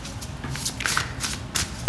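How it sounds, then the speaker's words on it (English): Tarot cards shuffled by hand in a short, soft burst of papery riffling and flicking, close and quiet, with no talking. "Actually, gonna give this a shuffle."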